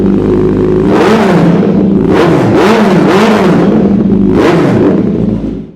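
A 2024 Kawasaki Z900 with a full Arrow aftermarket exhaust is revved repeatedly, giving several sharp throttle blips that rise and fall over a loud, close idle before cutting off at the end.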